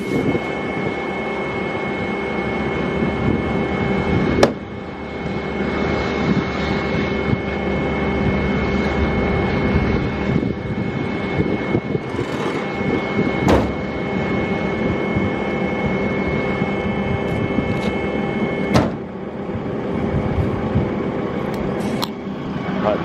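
A Renault Master ambulance sounds a steady warning buzzer with its doors open and steps deployed, a continuous tonal drone over engine hum, broken by a few sharp clicks and knocks.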